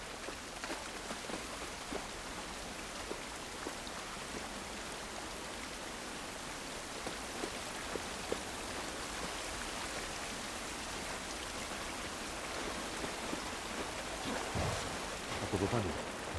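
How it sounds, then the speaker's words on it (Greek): Rain falls in The Last of Us Part I as a constant, dense hiss of drops, steady and fairly loud without any break. "Η βροχή δεν μας βοηθάει καθόλου."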